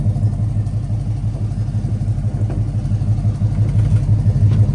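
A steady low V8 engine rumble from a 1984 Chevrolet C10 Silverado pickup idles continuously, a deep throaty exhaust burble with a slight rhythmic pulse, fairly close and loud throughout.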